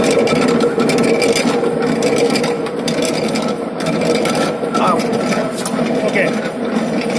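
Shaper machine cutting a round rod into square: loud continuous grinding, scraping and mechanical clatter of the ram stroking, steady and close throughout.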